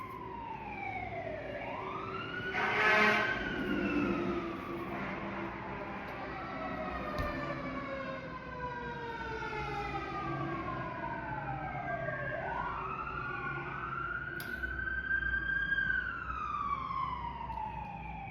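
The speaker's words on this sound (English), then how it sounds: "I didn't want to like talk over the sirens" Several emergency vehicle sirens pass outside, wailing and sweeping up and down in overlapping tones, fairly distant and steady throughout, with faint background noise and no talk.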